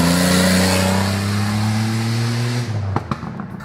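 A cheap old Buick with its mufflers cut off roars loudly at close range, its engine note held high and steady before dropping off sharply, followed by a few sputtering pops.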